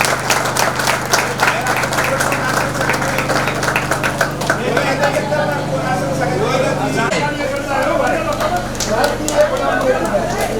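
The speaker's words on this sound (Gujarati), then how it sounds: "તો જોરદાર તાળીઓ વગાડો" A crowd at a Ram Katha religious gathering claps loudly and continuously for about ten seconds, dense rapid applause over a low steady hum of amplified sound in the hall.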